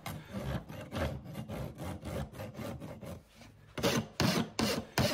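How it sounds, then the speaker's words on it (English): Farrier's rasp filing the tops of horseshoe nails on a hoof, a close, rhythmic series of rough scraping strokes, roughly two to three per second, with a short pause before heavier strokes resume. "Take my rasp and file the top of the nails to have a uniform thickness."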